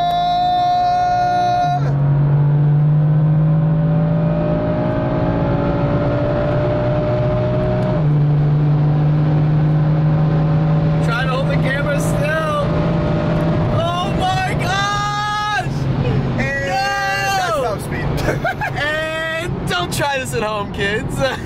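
A high-revving sports car engine accelerates hard with sustained loud roaring and rising pitch through gear changes, close up, as other cars race by; a voice is briefly heard.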